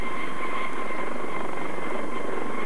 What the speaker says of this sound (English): But although the helicopter is going home, the HEMS doctors aren't.